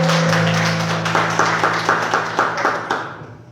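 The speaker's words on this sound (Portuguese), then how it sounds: "Dá uma salva de palmas." A church congregation clapping during a sermon, a rhythmic round of applause under a sustained tone that fades out, with separate claps becoming distinct toward the end.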